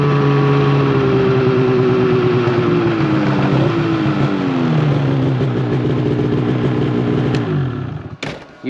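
A farm kid's ride engine revving as he rides off, a loud, close motor rising and falling in pitch through changing revs before cutting off abruptly near the end.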